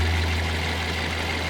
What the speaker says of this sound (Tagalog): Antayin ko lang na mag-warm up yung makina bago ko siya i-perform